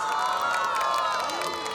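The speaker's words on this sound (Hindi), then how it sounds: "या तालियां, और तालियों के साथ कॉम्प्लीमेंट्री शोर" Crowd cheering and shouting with scattered clapping, a loud sustained roar of many voices rising and falling at a live show, with whoops and tonal yells over the din.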